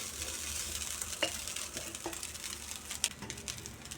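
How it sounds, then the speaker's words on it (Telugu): Cooled rice mixed into golden fried coconut in a pan, soft scraping stirs over a gentle sizzle, close but quiet, with a couple of sharper clinks. "రైస్ వేసుకోగానే బాగా కలుపుకోవాలి"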